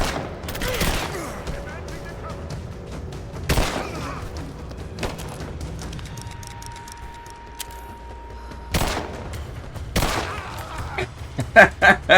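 Gunfire in Rise of the Tomb Raider comes as sharp, loud single shots and short bursts spaced several seconds apart, then a quick cluster of cracks at the end. Metallic clicks and faint voices sit between the shots.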